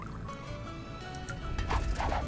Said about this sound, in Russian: Так, наливаю.